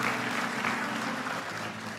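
Church congregation applause, a soft, continuous spread of clapping from a crowd, fairly distant and even over two seconds.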